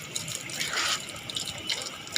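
Cold water runs from a tap in a steady, fairly quiet splash. It swells briefly now and then, heard close with no voices.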